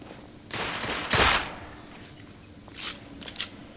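Gunfire in The Order: 1886, with several sharp bursts of shots, one heavy volley near the middle and more quick shots toward the end, set against a quiet ambient backdrop.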